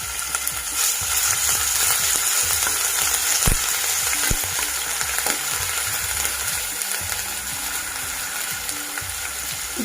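Ginger garlic paste sizzles in three to four spoons of hot oil in a pan, a constant crackling hiss with occasional sharper pops and spoon knocks, close and continuous with no talking.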